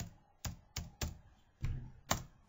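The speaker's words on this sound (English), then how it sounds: "And then you want to open it up and type in your password." Keys tapped on a computer keyboard while entering a password, six separate sharp clicks at uneven intervals, close and fairly quiet with no voices.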